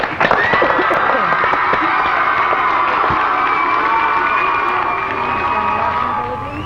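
A crowd cheering, shouting and applauding for a band, loud and continuous, with whoops and whistles over a dense roar of clapping that eases slightly near the end.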